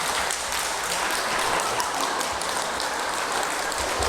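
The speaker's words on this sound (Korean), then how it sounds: "박수 쳐좀 박수 받아야지." Steady audience applause in a church prayer meeting hall, a dense continuous patter of many clapping hands held at an even level throughout, with no voices standing out.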